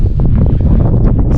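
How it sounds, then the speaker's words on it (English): Loud, low buffeting of wind across the microphone, gusting and rumbling continuously with no voices. "It's a little bit windy"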